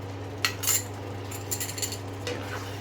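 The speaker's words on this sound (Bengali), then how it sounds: "চামচ দিয়ে একটু নাড়িয়ে নিয়ে ক্রিমটাকে দিয়ে দেবে।" Spoon stirring fresh cream into a chicken curry, a few light metallic clinks and scrapes against the pot, spaced irregularly over a steady low hum, fairly close.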